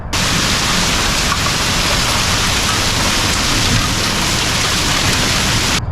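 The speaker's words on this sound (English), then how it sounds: "But we've been getting tons of rain." Heavy rain falling steadily after a hailstorm, a loud, dense and continuous hiss of drops on surfaces with no breaks and no voices.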